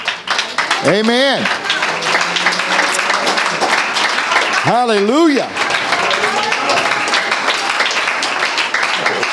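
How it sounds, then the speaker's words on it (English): A church congregation claps their hands in a dense, continuous patter throughout, while voices shout praise over the applause in two loud bursts. "stand to your feet and clap your hands to the Lord"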